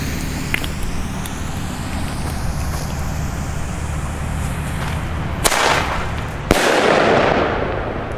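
Pyromax airbomb fireworks set off outdoors at a New Year's Eve display: two sharp, loud bangs about a second apart, each followed by a crackling burst, over a steady rush of background noise.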